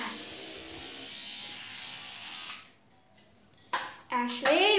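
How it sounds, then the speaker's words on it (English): Electric toothbrush left running at home, a faint continuous buzzing hum for the first few seconds that then cuts off, followed by a voice and other speech. "why did you leave the toothbrush going?"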